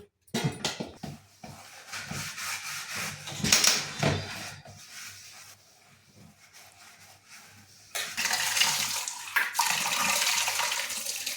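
Running water splashes and gushes while a sugar container is washed and scrubbed in a kitchen sink, with irregular bursts, a quieter middle stretch, then a strong steady flow of tap water toward the end.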